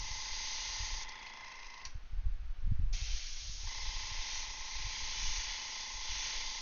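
An airbrush spraying paint onto a Gunpla model gives a steady, close airy hiss that cuts out for about a second, leaving low handling rumbles, then resumes and continues evenly.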